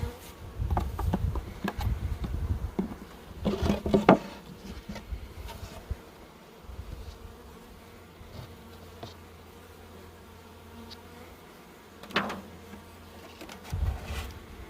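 Honey bees buzz around an opened hive during a honey harvest, a steady low hum with louder close passes and some handling noise, no talk.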